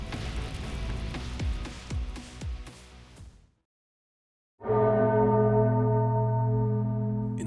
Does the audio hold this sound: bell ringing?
yes